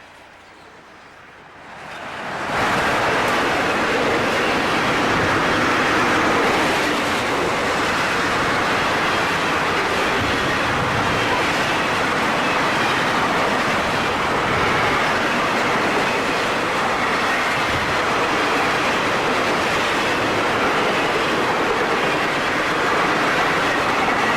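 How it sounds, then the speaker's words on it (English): Florida East Coast northbound freight train number 202 rolling past the former passenger station at St. Augustine, a loud, sustained rumble with clickety-clack of wheels and occasional squeal after a quiet start. "Northbound number 202 rolls by the former passenger station at St."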